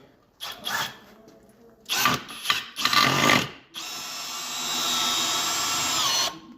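A cordless drill drives a self-tapping screw into a small wooden block, with several short loud bursts of whirring followed by a sustained, steady run at close range, no talk over it.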